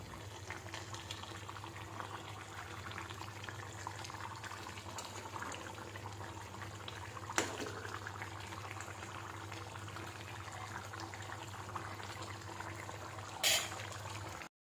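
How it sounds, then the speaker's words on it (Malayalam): Chicken curry bubbles at a rolling boil in a pot, a faint, steady simmering hiss with a couple of soft clinks and no talk. "നല്ലപോലെ വെട്ടിത്തിളയ്ക്കട്ടെ, നല്ലപോലെ വെന്ത് വരണം."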